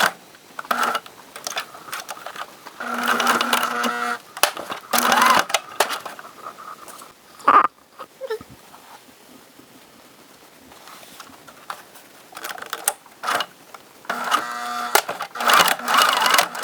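A sewing machine stitching elastic onto a pleated fabric face mask in short rapid bursts separated by quiet pauses, near and clear, with a few handling clicks in between.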